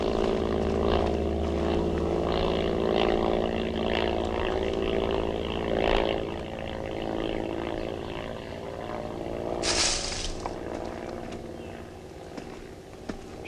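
A propeller-driven airplane drones overhead in a 1971 film scene, a steady engine hum holding throughout with a sharp hiss burst near the middle.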